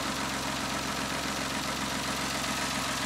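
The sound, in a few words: Citroen C1 engine idling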